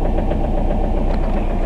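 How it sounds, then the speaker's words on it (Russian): A tractor engine drones nearby as it clears snowy paths on a frosty day, holding a steady, close, mid-pitched rumble with light knocking vibration and no voices throughout. "Трактор чистит у нас дорожки."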